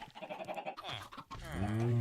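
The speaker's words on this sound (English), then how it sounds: "Oh, we got a brown sheep this time." A brown sheep in the Minecraft video game bleats, a wavering harmonic cry that swells near the end and lasts about half a second, preceded by game sounds and softer bleating.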